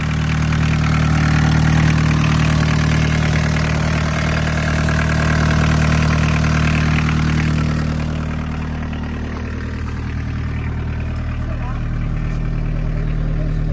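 A barn-find VW Caddy with 154,000 miles starts and settles into a steady, close idle, the engine drone loud and continuous before easing slightly, with people talking over it.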